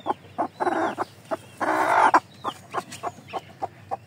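A brooding hen sitting on duck eggs on a poultry farm, giving repeated short clucks and a couple of longer throaty calls, close and clear over a quiet background.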